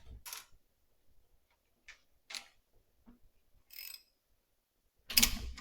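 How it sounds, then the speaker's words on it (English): A wrench cranks a nut on a 1948 Willys pickup, producing sparse, close ratcheting clicks in short separate bursts with quiet pauses between them, ending in a louder burst of clicking. "I'm just going to put a wrench on the nut down here to keep it from turning, and we'll start cranking."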